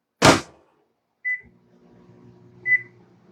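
A microwave oven heating chocolate cream pie filling sits on a rocky board: a sharp door clunk, then two short beeps with a low electric hum starting between them and carrying on.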